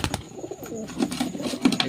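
Soft cooing from a male Giribaz pigeon, a few low throaty calls rising over a quiet background with light rustling.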